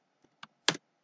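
Three faint, quick keystrokes tap on a computer keyboard while a folder name is typed, each short click a little louder than the last, in a quiet room.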